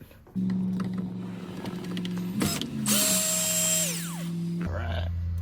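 A power drill whirs close up while taking out the bottom screw of the multifunction switch on a 2003 Ford F-150 XL, spinning steadily, then revving higher and winding down before a lower hum.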